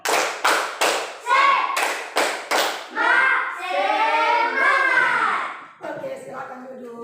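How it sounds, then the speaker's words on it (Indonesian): Children in an Indonesian classroom clap a rhythmic 'tepuk semangat' cheer, sharp clap bursts in a patterned beat, then chant and shout along in unison. "Tepuk semangat."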